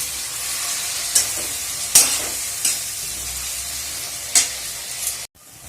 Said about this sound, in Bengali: এবার আমি টমেটোটা দিয়ে দেবো দিয়ে আরও কষবো যতক্ষণ না টমেটোটা একটু নরম হয়